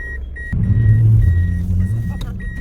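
Car engine rumbling steadily while driving along a street in Aldan, Yakutia, recorded from inside the vehicle, with a constant low drone and a faint high whine throughout.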